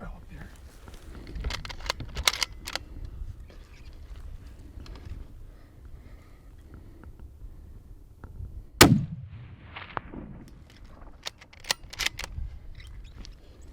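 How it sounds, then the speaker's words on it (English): A single sharp rifle shot rings out once during a tahr hunt in New Zealand, loud and close, with a low boom trailing after it. People talk quietly and some camera handling noise is heard before and after. "put the appropriate crosshair on it, get settled, squeeze the trigger"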